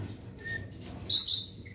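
A black-capped lory gives a short, bright chirping call near the end, preceded by a faint thin whistle over low room hum, close and brief.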